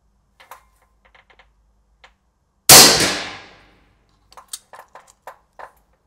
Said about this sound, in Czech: první výstřel 260 metrů za sekundu